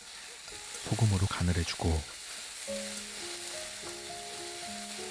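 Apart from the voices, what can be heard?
onions stir-frying in oil in a pan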